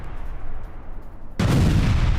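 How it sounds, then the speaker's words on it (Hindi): Explosions from Israeli strikes in Gaza: a low rumbling background gives way halfway through to a sudden heavy blast that stays loud and roaring, without any speech. "कैसे बड़े बड़े धमाके हो रहे हैं गाजा में।"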